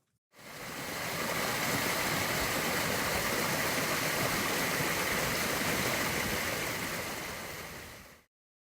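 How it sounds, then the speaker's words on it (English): A spring stream in Vermont flows in a steady, broadband rush that fades in, holds at an even level for several seconds, then fades out, with no voices over it. "So that's the sound of a stream you recorded in Vermont?"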